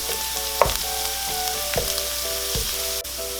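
Garlic frying in a pan, a continuous crackling sizzle close up, with a few sharp utensil taps and a steady tonal hum running beneath.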